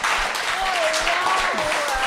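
A live podcast audience in Trois-Rivières applauds guest Fred St-Gelais with dense, sustained clapping that fills the room, mixed with scattered whoops and voices.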